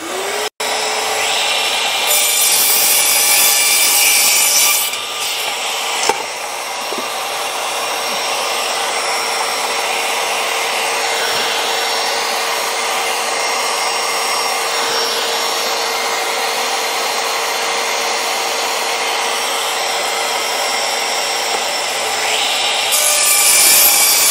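A power saw cuts timber for native stingless bee boxes, a loud continuous whining roar close by that holds steady for the whole stretch with a brief dip near the start.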